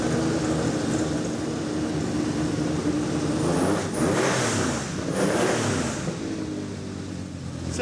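A sports car engine roars and revs up and down in close, sustained bursts, filling the whole stretch with no talking.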